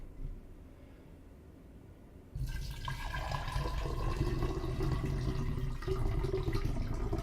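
Tap water runs into a bottle holding tea, a steady broadband pour that starts abruptly about two seconds in and continues at a fairly loud, even level to the end.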